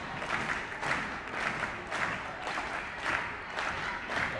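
A gym crowd at a girls' high school volleyball match keeps up a steady roar, with rhythmic pulses of chanting and clapping about every half second.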